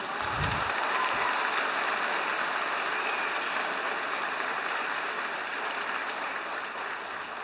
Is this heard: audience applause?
yes